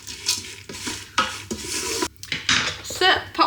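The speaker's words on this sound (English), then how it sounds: "Give it a quick stir." A utensil scrapes and clatters around a Ninja Foodi pot while stirring in cranberries, raisins and coconut flakes, with rhythmic close scraping strokes over a faint sizzle.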